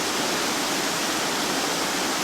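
A high waterfall in the Japanese Alps near Toyama cascades onto gravel, giving a steady, loud, broadband rushing roar that stays constant throughout with no voices.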